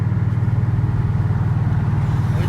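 Chevrolet Camaro ZL1 with a StreetFighter SF850R upgrade idling at a steady, deep, even burble, loud and close, with no other sounds over it.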